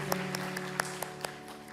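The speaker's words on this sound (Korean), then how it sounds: "우리 하나님께 감사의 박수 올려드리겠습니다." At a church worship service, the congregation gives a round of applause in thanks to God: sharp, evenly spaced claps sound over a steady tonal background.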